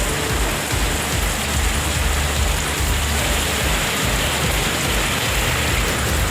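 Heavy evening rain pours down in the Senthurai area of Ariyalur district, Tamil Nadu, a loud, dense, unbroken hiss of downpour that holds steady throughout with no voices.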